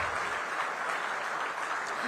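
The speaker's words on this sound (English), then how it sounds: "Everyone, please give a thundering round of applause." Audience at a government business session applauding, a continuous wash of many hands clapping, even and sustained with no pause.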